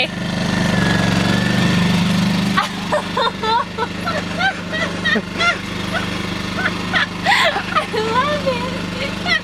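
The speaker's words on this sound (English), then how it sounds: "It's a generator." A cheap portable generator from Lowes runs with a continuous buzzing engine drone, loudest at first and then partly masked as several people talk and a dog barks nearby.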